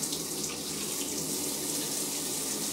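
A bathroom tap runs steadily as something is rinsed under it, a close, even, hissing stream of water with no voices over it.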